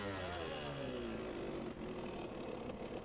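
Motorcycle engine kick-started during a riding lesson, running with a steady mid-pitched drone and falling tonal sweeps, continuous and fairly close throughout.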